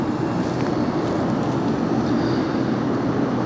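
A large airliner passing overhead at LAX, the queen of the sky, heard as a steady, loud, broadband jet roar that holds evenly throughout with no voices over it.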